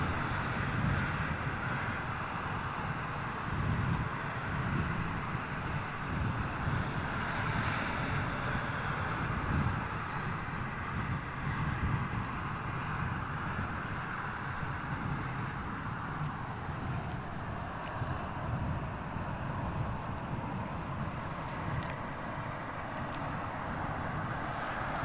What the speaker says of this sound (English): that Emirates 777 just rumbled over me in Hawley